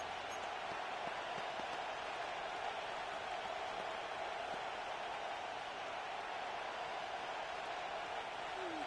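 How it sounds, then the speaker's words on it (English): Football stadium crowd cheering before a third down, a broad steady roar of many voices without distinct voices standing out. "This crowd into it now as we get to third down."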